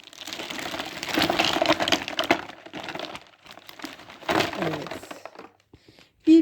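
Plastic shopping bag from a Gratis cosmetics discount haul rustled and handled up close, loud crinkling bursts in uneven waves with short pauses and a brief thump at the end.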